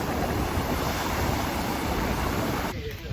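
Ocean waves roll in on a beach at night in Bali, a continuous loud wash of surf with some wind noise on the microphone, no talk.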